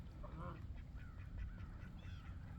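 A male goose honks outdoors, a few short nasal calls repeating at a distance over a low rumble of wind or background noise.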